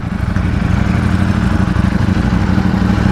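Ducati Panigale V4S motorcycle idling with the listener close to the exhaust, a loud steady low throbbing rumble with a fast even pulse, running alone without talk.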